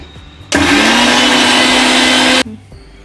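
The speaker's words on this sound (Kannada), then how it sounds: "ಸ್ವಲ್ಪ ಸ್ವಲ್ಪನೇ ಹಾಕೊಂಡು ರುಬ್ಕೊಳ್ಳೋಣ" Mixer grinder grinding cooked lentil filling for obbattu, a loud steady whirring roar that starts abruptly, runs for about two seconds and cuts off, with quiet room sound before and after.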